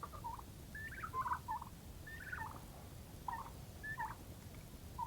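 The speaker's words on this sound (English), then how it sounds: "So You guys got to hear him gobble firsthand right here." A farm-raised adult tom turkey gobbles in a quick series of warbling bursts, about six calls spread evenly across a few seconds, fairly faint against a quiet background.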